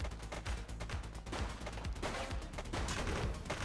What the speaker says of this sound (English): Shots fired! He's shooting!